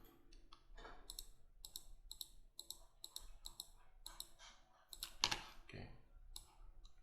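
Computer mouse clicking in geology software, a rapid series of close, sharp clicks in irregular bursts with quiet gaps between them.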